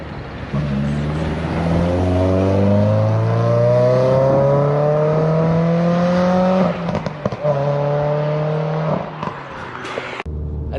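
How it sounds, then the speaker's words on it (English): A Renaultsport Clio 197 F1 R27 with a naturally aspirated 2-litre high-revving engine climbs loudly through the revs in a long rising pull, backs off, then rises again before easing to a lower note. "2 litre, the high revving engine"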